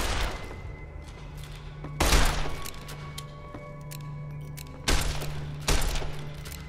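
Gunfire from the video game Fallout New Vegas: three sharp, loud broadband shots at roughly two-second intervals, each one cracking out over a steady game hum and ambient drone.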